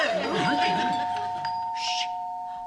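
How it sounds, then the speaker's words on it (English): A door chime rings with steady sustained tones near the start, fading slowly as voices talk over it, in a 1978 British sitcom home. "I love your chimes"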